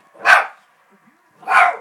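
Two loud, deep barks from a big dog on television, about a second apart, close by, with quiet between them.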